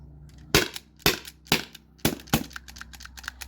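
A Beeman HDP50 CO2 air pistol firing rubber steel balls on a nearly empty CO2 cartridge, five sharp separate cracks at uneven spacing, each close and loud, with faint mechanical clicks between them.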